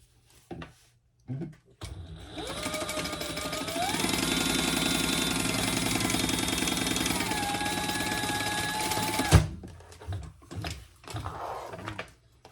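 A sewing machine bastes a hobo-style shoulder bag, its motor whirring steadily for about seven seconds and stepping up and down in pitch, framed by brief quieter handling noises before and after.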